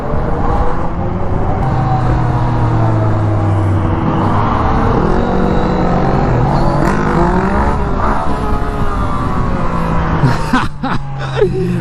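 Yamaha FZ-09 motorcycle engine accelerating hard on a 2016 first ride, a loud continuous rising engine note with wind roar throughout, up close and steady, shifting pitch near the end.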